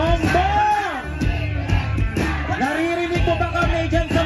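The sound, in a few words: crowd of protesters shouting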